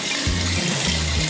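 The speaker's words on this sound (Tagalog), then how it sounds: "At saka linagyan ko ng tubig dito." Water running steadily into a washing machine drum during a drain-problem repair, a continuous broadband rush with a low pump-like hum pulsing underneath, close and fairly loud with no talk.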